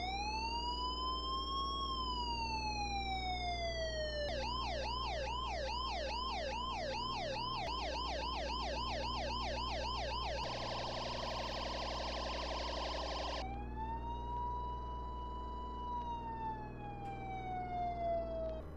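Emergency vehicle sirens from the Flashing Lights video game cycle through patterns: a slow rising and falling wail, a rapid yelp, a harsh buzzing tone, then the wail again, steady and continuous throughout.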